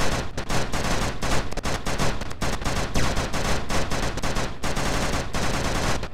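Dense, rapid automatic gunfire inside a space station in The Rebel, a relentless stream of close shots with hardly any gap across the whole stretch.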